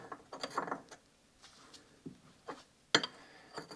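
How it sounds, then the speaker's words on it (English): A wrench loosening the locking nut on the adjustable suspension of a 1275 automatic Mini Cooper, a few sparse close metallic ratchet clicks and clanks with quiet pauses between them. "The top one is a locking nut, so better just loosen that up firstly, like that."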